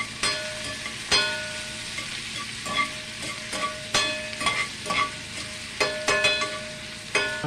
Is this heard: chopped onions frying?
yes